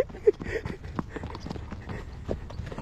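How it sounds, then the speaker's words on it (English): Quarter horse hooves clip-clopping in a steady walking rhythm, fairly close and moderately loud, with light background noise and no clear talk. "Jakey's like, don't call me an Arabian, I'm a quarter horse."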